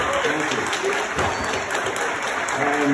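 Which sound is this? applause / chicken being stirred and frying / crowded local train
applause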